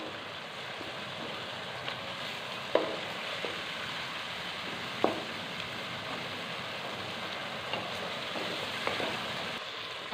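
Ginger garlic paste and onions fry in a pan, a steady, soft crackling sizzle throughout with occasional faint pops and light stirring clicks, no voices.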